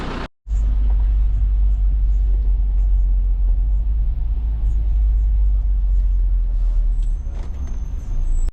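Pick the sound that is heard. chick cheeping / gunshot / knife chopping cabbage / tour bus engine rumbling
tour bus engine rumbling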